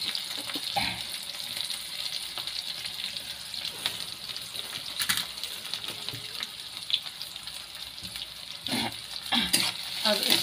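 Onion and green chilli frying in a pan, a soft continuous sizzle with a few sharper clatters from stirring, moderately close, and a voice talks faintly through parts of it.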